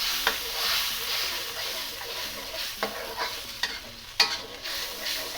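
Sauce stirred into garlic and ginger sizzling in a hot pan, a steady frying hiss with a few sharp scrape and clatter hits from the spoon, close and alone.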